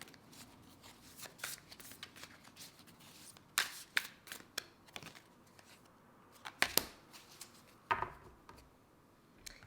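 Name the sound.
shuffling oracle cards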